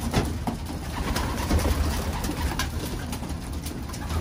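Racing pigeons, including imported birds, coo in a loft, with soft overlapping throaty calls from several birds, some near and some farther off, over a busy background hum.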